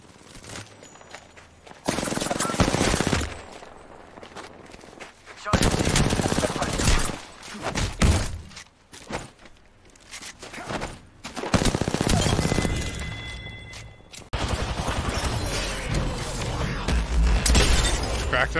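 Apex Legends SMG fight: close, loud bursts of rapid submachine gunfire come in repeated waves with short lulls, crackling shatter sounds mixed in, while players talk between and over the shooting.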